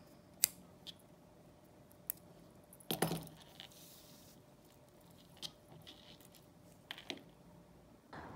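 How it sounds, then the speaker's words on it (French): Scissors snip crochet yarn, giving several faint, sharp clicks spaced irregularly over a quiet room background. "Je garde du fil pour la couture et je coupe."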